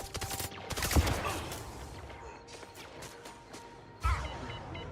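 Laser shotguns firing in the video game MindsEye: a dense, crackling burst of blasts with a heavy impact around the first second, a noisy wash of effects in between, and another sharp blast near the end.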